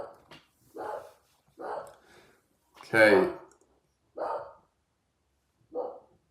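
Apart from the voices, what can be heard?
dog barking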